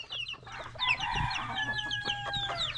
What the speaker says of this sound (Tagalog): Yung mga manok ni Tatsuki dyan mga idol